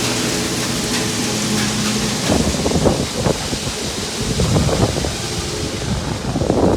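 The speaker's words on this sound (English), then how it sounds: "the wind is picking up pretty quick" Strong wind gusting across an open farm field during grain harvest ahead of rain, a steady loud roar with buffeting surges against the microphone and no talking.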